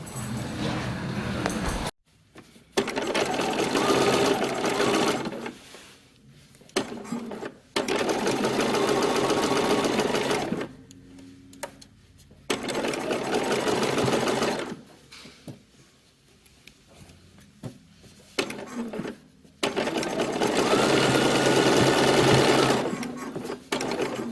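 A home sewing machine top stitches a pressed one-inch hem on a dress, running in long steady bursts of rapid stitching separated by short pauses, close and loud throughout.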